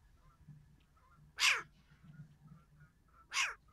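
Two loud, harsh, rasping owl calls with a cat-like quality, spaced about two seconds apart over a quiet background.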